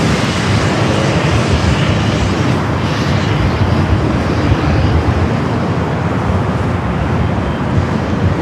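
A jet airliner roars on takeoff at LAX, a loud, steady, broadband rumble that stays constant throughout with no pauses and some wind noise mixed in.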